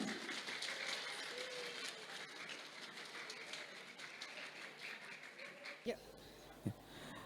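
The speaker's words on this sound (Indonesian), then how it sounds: "beri tepuk tangan yang meriah." Graduation ceremony at a Muhammadiyah elementary school: sustained crowd applause fills the hall for several seconds, then cuts off abruptly, leaving a quieter room with brief thuds and faint voices.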